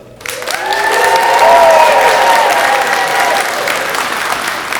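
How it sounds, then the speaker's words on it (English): A school audience at a kindergarten performance bursts into loud, sustained applause mixed with high children's cheers and shrieks, holding for several seconds. "we're going to give them a cheer and a round of applause"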